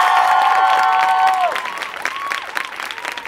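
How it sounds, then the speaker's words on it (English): A crowd applauds a musician after his GarageBand demo, with steady clapping and some cheering. A sustained electronic tone fades out at the start, and the applause then continues loud and close. "Please give him another round of applause."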